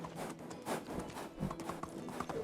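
Horse hooves clip-clop in a quick, steady rhythm as a horse is ridden at speed in the Medieval Dynasty video game, the muffled hoofbeats repeating for a few seconds over a soft, busy background without speech.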